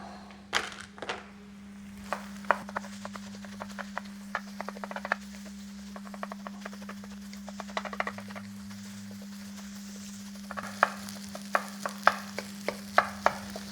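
Rice being forcefully stirred and broken up in a pan, with a series of sharp scraping clicks and taps, irregular and close, over a steady background hum.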